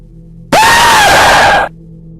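A woman's sudden, piercing scream from a horror screamer animation bursts out loud and close, holding a sustained shriek for about a second before cutting off abruptly.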